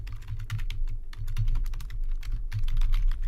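Keys clatter on a computer keyboard in quick irregular bursts with short pauses, close and moderately loud, as an email is typed into a Google Doc.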